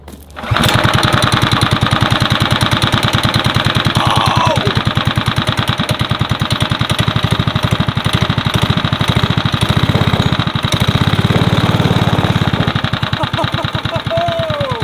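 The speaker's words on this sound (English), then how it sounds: "The go-kart runs." Small engine of a homemade go-kart built from a tree trunk starting up on its first run, then chugging steadily and loudly with a fast, even, lawn-mower-like putter throughout.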